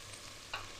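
Beef pieces fry in a pan for New Mexico style red chile, giving a steady close sizzle with a couple of brief stirring scrapes near the end.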